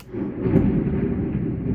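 Low rumbling thunder just after a lightning flash, a sustained deep roll that is fairly loud and steady, with no voices over it.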